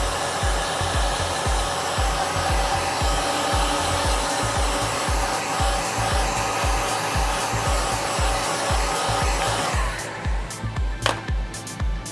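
Heat gun blowing hot air onto vinyl wrap, a loud steady roaring whoosh with rhythmic pulsing underneath, which cuts off near the end, leaving quieter rustling.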